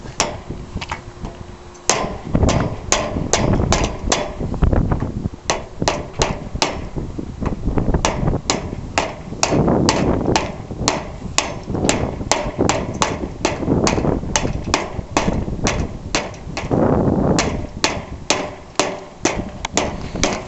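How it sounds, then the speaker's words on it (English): Repeated sharp hammer blows drive wooden boards into a metal tube of a lift hoist, sometimes in rapid bursts, sometimes spaced apart, close and loud over steady outdoor rumble for about twenty seconds. "So all you do is you hammer them in there"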